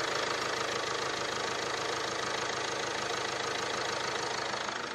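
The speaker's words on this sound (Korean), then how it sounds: "바로 엔진 소리 한번 들려드릴게요." A 2017 Land Rover Discovery Sport engine idles steadily nearby, a smooth continuous hum with a faint rhythmic knock, heard alone without talk.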